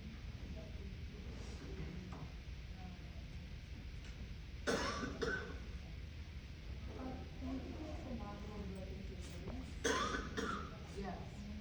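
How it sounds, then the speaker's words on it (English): A cough in a classroom-style training session, two sharp bursts of cough noise standing out from a steady murmur of room tone and people talking. "Sorry, I coughed."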